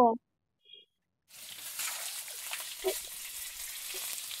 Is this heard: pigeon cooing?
no